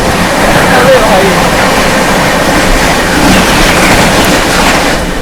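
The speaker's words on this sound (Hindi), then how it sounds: "Lucknow junction Bandra terminus express, मेरे को लगा पहले ओवरटेक होगा फिर ये आएगी, चलो ये आ गई" Lucknow Junction–Bandra Terminus Express passing close by, a loud steady roar of rolling wagons with faint rail clatter, sustained throughout with a voice briefly audible over it.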